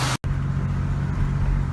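A 1989 Oldsmobile Toronado Trofeo, just pulled out of storage, idles with a steady low engine hum and drone, close by and continuous, after a brief cut at the start.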